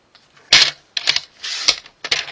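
Scissors cutting paper pieces for a black-and-white scrapbook album, four close, crisp snipping bursts in an uneven rhythm with quiet gaps between them.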